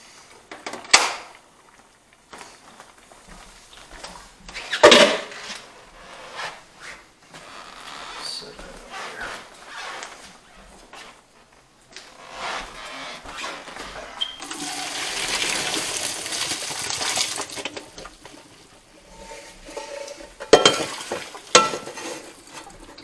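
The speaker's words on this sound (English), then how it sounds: "Just going to pull those out and strain those off." Cooked spaghetti noodles are drained into a strainer: clattering pot handling, then a sustained rush of pouring water at mid-clip, with scattered knocks and brief speech around it.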